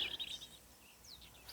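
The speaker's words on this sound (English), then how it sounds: "There is the birds. The birds are just fantastic." Birds chatter on a nature walk, with a few thin chirps and warbling calls sounding at moderate distance over soft outdoor background, faint and without talking.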